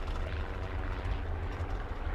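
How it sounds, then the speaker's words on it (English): A continuous low droning roar of aircraft engines in the video game War Thunder, steady and fairly loud throughout the short stretch. "Airplanes flying around."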